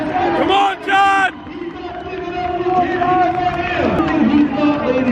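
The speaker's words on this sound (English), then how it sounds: "Ladies and gentlemen, we got to cheer him on." Crowd at a strongman event cheering and shouting encouragement during a sandbag lift, a loud burst of yells followed by sustained whooping and hubbub.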